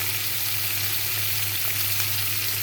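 Vegetables sizzle in a hot pan of prawn curry, a loud, steady frying hiss that runs unbroken throughout with no voices.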